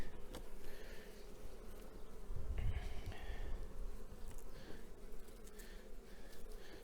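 Honeybees hum steadily and fairly close throughout a spring inspection of a small apiary, a dense low drone with some wingbeats swelling nearer, and a brief handling rustle midway.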